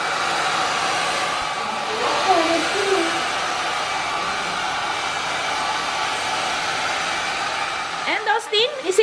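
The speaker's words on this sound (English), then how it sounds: "Yes, you can dry your own hair." A FeeKaa children's hair dryer blows with a steady, close whooshing hiss throughout, and a voice and brief chatter come in near the end.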